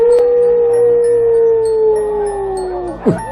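A dog howls in one long, falling tone, ending with a short yelp.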